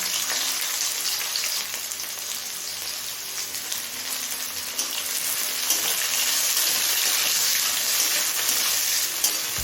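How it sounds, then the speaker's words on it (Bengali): Thinly sliced large onion fries in white oil with cumin and bay leaf, giving a dense, continuous crackling sizzle with scattered pops and occasional stirring scrapes, loud and close throughout. "এবার পেঁয়াজটা লাল করে ভেজে নেব"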